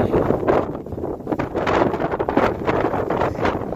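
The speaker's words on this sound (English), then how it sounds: "Sorry, guys, it is windy." Strong gusty wind blasting across the microphone outdoors beside a micro wind turbine on an off-grid solar setup, loud continuous buffeting rumble with surging gusts throughout and no other clear sounds.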